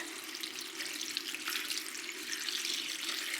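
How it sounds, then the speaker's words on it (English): Tap water runs steadily into a cooking pot in a home kitchen, a continuous hissing gush filling the vessel for spinach blanching, with no voices. "So let me just fill it up with water."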